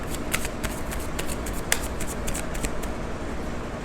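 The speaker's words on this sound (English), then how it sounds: "let's take out a card for the first question" Tarot cards shuffled and drawn, with a steady papery riffle and sharp card snaps throughout, close and fairly loud with no talking.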